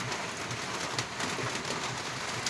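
Steady rain pours down during the rainy season, a dense even hiss of drops on surfaces with faint scattered patters, continuous and close, with no voices.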